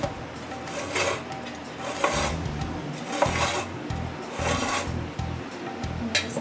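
Salt being mixed into a traditional fireside coconut chutney in a plate, with close, repeated gritty scraping and stirring strokes in an uneven rhythm.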